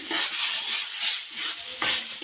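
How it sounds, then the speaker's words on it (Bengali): Rice, turmeric and spices fry with ginger, garlic and green chilli in a pan for a Bengali fish-head dish, giving a steady close sizzle with soft stirring scrapes and no talk. "হলুদটা দিয়ে ভালো করে ভাজতে হবে"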